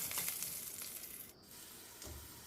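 Cloves, cumin, garlic and dried red chillies fry in oil for a chutney, giving a steady, fairly soft sizzle with a brief dip midway and a few stirring scrapes, with no talking.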